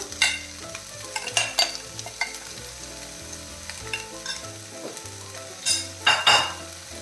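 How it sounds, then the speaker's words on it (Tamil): Marinated chicken sizzles in a hot pan as it is stirred, with steady frying hiss and several sharper scraping bursts of the spoon against the pan, close by, with no voices. "சிக்கனுக்கு மேரினேட் பண்ணி வச்சுருக்கோமே அதை சேர்த்துடலாம்"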